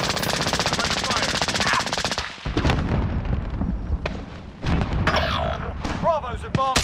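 Battle in Call of Duty: Modern Warfare with sustained rapid machine-gun fire, then scattered heavier shots and bursts, loud and close, while radio-style voice callouts sound over the gunfire.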